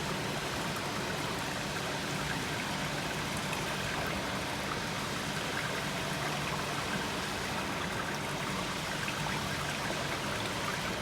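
Water rushing continuously through a laboratory channel with a hydraulic jump, a steady hissing, gurgling flow that stays even and close throughout, with no voices.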